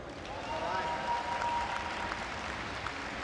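Audience applause fills a StarCraft 2 esports event at Gamescom, a steady wash of clapping from a large crowd, moderately loud and continuous throughout.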